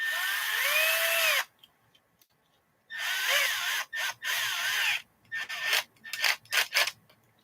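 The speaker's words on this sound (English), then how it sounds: "Let's drill the hole." Drill bursts boring a hole while an RC Element Enduro crawler is built: a long whining run, then several short stop-start pulses of rising and falling pitch, close and loud with quiet gaps between.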